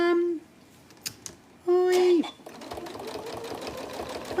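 A sewing machine stitches a label onto a quilt in two short bursts, then settles into a quieter, steady mechanical whir, all close and clear with no voices.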